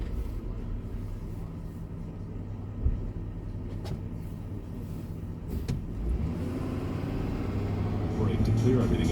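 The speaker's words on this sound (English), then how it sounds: "Gravel truck." A heavy gravel truck rolls past on Mission Street in San Francisco's South of Market, giving a loud, steady low engine rumble that swells slightly toward the end, with ongoing street traffic noise behind it.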